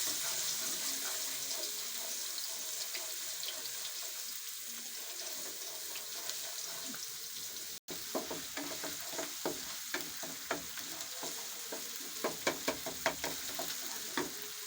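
Ginger garlic paste frying in hot oil, a steady low crackling sizzle with small pops and stirring scrapes growing more frequent later, close and fairly quiet.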